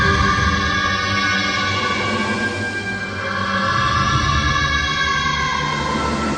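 A song, slowed down 800%, becomes a dense, droning, smeared wash of low tones. It holds steady and loud throughout with a slight dip midway, and no voices are heard.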